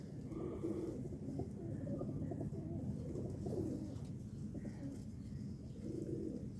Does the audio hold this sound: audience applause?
no